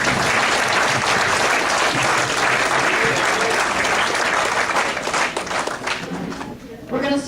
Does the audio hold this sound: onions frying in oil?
no